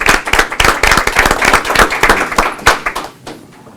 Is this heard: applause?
yes